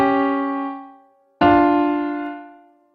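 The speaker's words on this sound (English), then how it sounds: "this creates an interval of a diminished 5th that resolves to a minor 3rd" Two sustained harmonic chords, each struck and left ringing to decay, a tense diminished fifth giving way to a softer, resolved minor third after a short gap.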